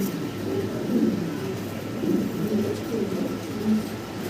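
Several pigeons at a seller's collection coo in low, rolling murmurs that overlap and repeat, with indistinct human voices mixed in the background.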